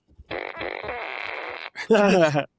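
A loud, sputtering fart sound effect, long and buzzy with a brief pause, then a shorter, higher, more tonal blast at the end.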